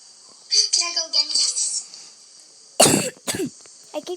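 A person coughs in a few harsh, close bursts, each followed by a shorter one, right after a stretch of excited talk during a button-pressing game.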